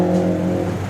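A 1970s Lola Formula 5000 race car with a V8 engine and intake trumpets on top runs steadily nearby, its low harmonic drone holding at an even pitch for a moment with no speech.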